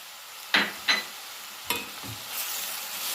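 Diced chicken breast with tomato paste and pepper paste being stirred in a pan, a few distinct scraping strokes over a soft sizzle, near and without talk.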